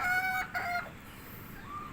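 A rooster's high crow sounds briefly at the start, followed by faint clucking from chickens nearby in a quiet yard with two brood roosters and eight hens.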